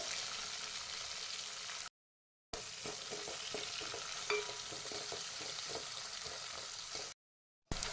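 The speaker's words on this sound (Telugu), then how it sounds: "ఇప్పుడు ఇందులో కొత్తిమీర ఆనియన్స్ కూడా వేసి కలుపుకోవాలి" Coriander and onions are stirred into sizzling oil for raw tamarind soup, making a steady hiss with soft, rhythmic scraping, broken by two brief silent gaps and no voices.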